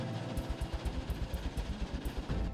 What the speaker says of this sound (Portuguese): Essa máquina aí tem a função de triturar e separar.